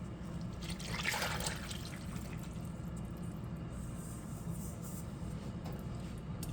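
Wet cake batter for a chocolate cake poured into a bowl of dry mixture, a soft steady liquid pour and trickle heard up close and alone at low level.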